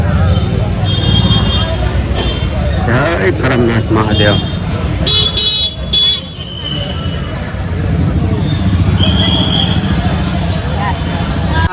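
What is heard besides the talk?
heavy road traffic with car horns and crowd on Rakshabandhan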